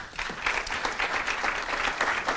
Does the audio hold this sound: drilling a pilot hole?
no